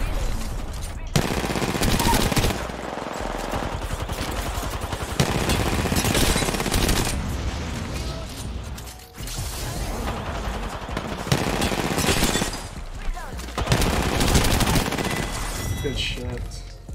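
Rapid RE-45 pistol fire in Apex Legends, with sustained bursts of shots in several long volleys separated by brief pauses, loud and close.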